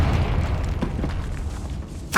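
Confringo spell explosion in Hogwarts Legacy, a low rumbling boom carrying through a game tomb ambience with a bright crackling burst at the end, fairly loud and close.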